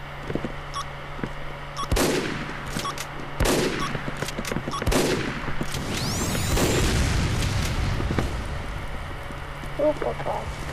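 Explosions and gunfire from the video game Team Fortress 2: several sharp booming blasts in rapid sequence over a steady noisy background, loud and close, with a whistling sweep midway.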